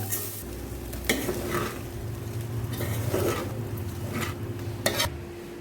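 Lemon rice with turmeric and salt being stirred in a hot pan, a spoon scraping and clinking against metal in irregular strokes over a soft, steady sizzle, close up.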